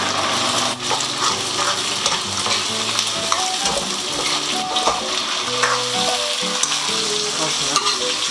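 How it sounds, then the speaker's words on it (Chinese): Potato slices frying in hot oil, a loud continuous sizzle and crackle close up, with occasional stirring scrapes and a faint tonal hum underneath, steady throughout with no talking. "油热之后下入土豆片"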